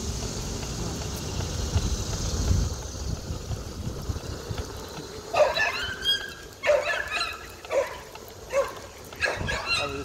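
A dog barks and whimpers outdoors on an evening walk on grass in Linthicum Heights, Maryland, a series of sharp, close barks in a broken rhythm after a stretch of quieter ambient noise.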